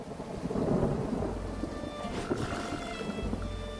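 Rain pours steadily in the video game Dead in Vinland, with low rolling thunder rumbling beneath the downpour throughout.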